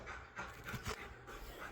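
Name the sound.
dog panting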